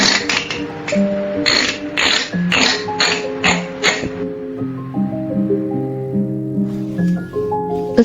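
An SK280 knitting machine carriage is pushed across the bed, giving a close mechanical clatter of ratcheting clicks and tapping, with rhythmic passes and a shift to a different clicking texture partway through.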